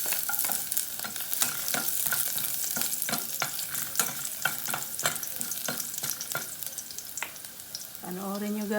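Food sautés in a pan with a constant loud sizzle of hot oil, cut by repeated spatula scrapes and taps, ending in a short clank.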